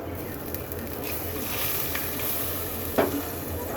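Water goes into a sizzling pan of prawns and taro curry, giving a steady hiss and bubbling with stirring scrapes and a brief splash near the end, close and continuous.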